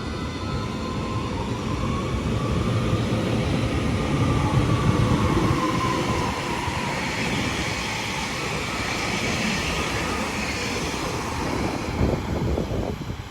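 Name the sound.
class 800 train passing at speed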